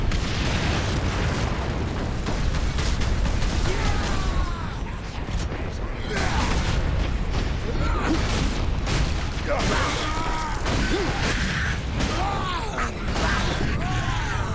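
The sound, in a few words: gunfire in Warhammer 40,000: Space Marine video game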